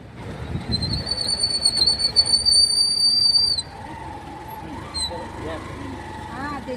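A train whistle sounds at a railway station, a loud sustained high tone over rumbling wheels and squealing rails, then cuts off as the train rolls on with faint distant talk.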